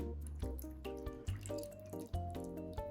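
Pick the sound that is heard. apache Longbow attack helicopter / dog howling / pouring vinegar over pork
pouring vinegar over pork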